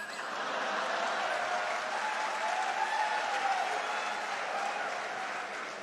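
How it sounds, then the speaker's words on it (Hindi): A live audience at a Hindi satirical poetry recital breaks into sustained applause, steady clapping from the whole crowd lasting several seconds with faint voices mixed in. "व्यंग पर तालियां तो अब आपकी अब उठेंगी"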